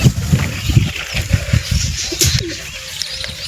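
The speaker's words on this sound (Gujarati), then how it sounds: "તો અહીંયા આપણે બધા કબૂતર બેઠા છે" Pigeons sitting in a loft coo in soft, repeated low pulses close by, with a brief higher call and some light shuffling noise around them.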